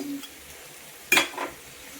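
Chopped vegetables for spicy chapati noodles are tossed in a pan, giving one sharp clattering stir and a softer follow-up scrape over a faint, steady sizzle, close and with no talk.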